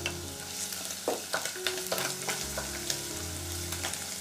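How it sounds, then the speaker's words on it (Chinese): Pork belly stir-fries in its rendered oil with minced garlic in a wok, a continuous close sizzle broken by several scraping stir strokes, no voices. "五花肉煸出油了，我们把蒜末加进来"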